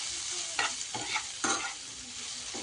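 Spices and turmeric fry in oil in a pan for an egg curry, a steady close sizzle broken by several scraping stirs of a spatula.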